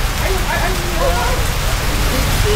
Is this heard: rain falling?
yes